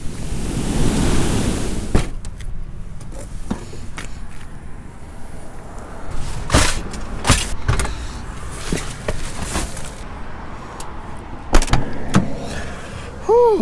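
Rough ocean surf breaks and washes steadily onto a rainy beach where someone is fishing for surf perch, a constant broadband roar broken by scattered sharp knocks and clatters.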